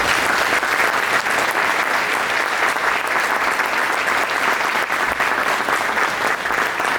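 An audience at a Long Island luncheon in a country club breaks into sustained applause, dense clapping from many hands that stays loud and even for several seconds.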